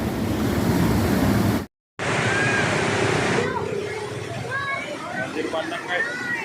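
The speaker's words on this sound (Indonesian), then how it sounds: "Untuk arus sangat deras." A flash flood's rushing current pours past with a loud, continuous roar and wind buffeting the microphone. Voices shout and talk over the churning water, and there is a brief dropout partway through.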